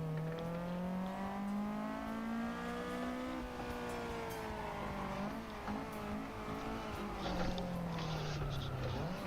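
A racing car engine in a video game, a Toyota 86, whines steadily, its pitch climbing and dipping as it revs through gears, with occasional tire noise.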